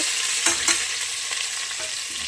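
Sliced onions frying in hot oil in a pan, cooked with whole spices for chicken biryani, give a steady bright sizzle with occasional soft crackles and light stirring scrapes, close and continuous with no voices.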